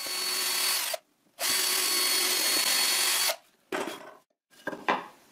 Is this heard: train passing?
no